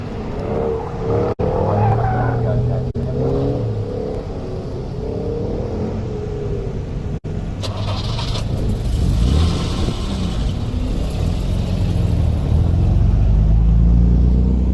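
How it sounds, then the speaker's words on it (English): A Jaguar E-Type engine rumbles and builds as the car pulls away at an SCCA autocross, with steady low roar and rising revs throughout. "Sound of an E-Type taking off."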